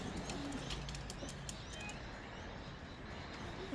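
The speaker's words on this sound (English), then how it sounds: "Oh, there's pigeons, eh?" Racing pigeons homing to their loft on a clear, sunny day in Australia, with soft cooing and occasional wing flaps rising faintly over a steady outdoor background hiss.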